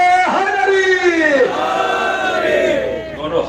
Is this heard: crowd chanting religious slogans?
yes